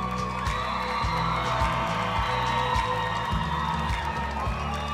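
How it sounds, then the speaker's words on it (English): Pageant audience at a Miss USA preliminary cheering and whooping over loud stage music with a thumping beat, the crowd noise spread wide beneath the music. "Let's give a big round of applause to this group."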